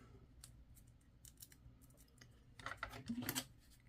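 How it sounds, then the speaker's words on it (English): Paper card is cut in half with scissors: faint, close snipping and slicing strokes, growing a little louder toward the end. "I'm going to have to cut one in half for the bottom"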